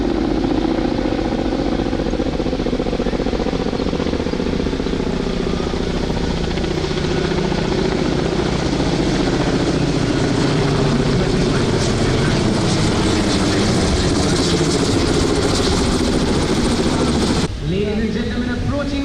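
Kamov naval helicopters passing at the International Fleet Review in Vizag, India: a loud, continuous engine and rotor roar that holds steady for most of the pass, then drops away sharply near the end.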